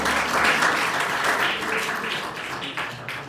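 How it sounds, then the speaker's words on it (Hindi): Audience applause at a prize-giving ceremony for a Sharda competition: a dense burst of hand clapping from a seated crowd, steady and moderately loud, tapering off slightly at the end. "इसलिए उनके लिए ताली हो जाए।"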